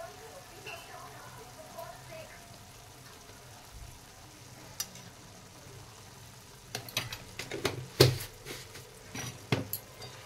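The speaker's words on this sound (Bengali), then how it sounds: "এবার সবগুলোকে ভালো করে নাড়িয়ে নেব" Bottle gourd and egg curry stirred in a pan, with soft sizzling through the first part and a cluster of sharp spatula clicks and scrapes near the end, while a voice talks over it.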